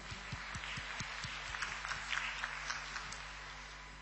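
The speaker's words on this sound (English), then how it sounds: "let's give him a huge round of applause and welcome him" Applause from a conference audience welcoming a speaker at an eHealth event, a steady wash of many hands clapping with sharper individual claps, moderately loud and continuous throughout.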